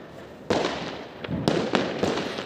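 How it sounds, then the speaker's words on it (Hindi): Firecrackers bursting outdoors on New Year's Eve, a sharp loud crack followed by several more pops and bangs over a continuous crackling, smoky background of distant fireworks. "बहुत ज़्यादा साउंड, मतलब पटाखे छूट रहे हैं"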